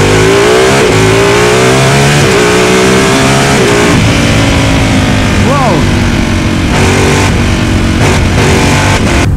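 A Ducati sport motorcycle ridden hard in race mode, its engine roaring loud and close throughout, with revs climbing and dropping between gear changes.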